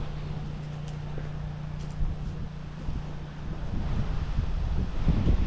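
Wind blows outdoors at a spot where heavy metal gates are being fitted, buffeting the microphone with a low, rumbling roar that grows stronger toward the end; no one speaks.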